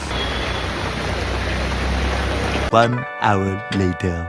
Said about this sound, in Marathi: बाहेर पाऊस बघा केवढा पडतोय